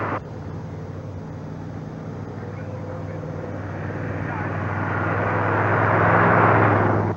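A Cadillac El Dorado drives past during a film stunt, a low engine rumble and road noise swelling steadily louder as it approaches, with voices faintly present.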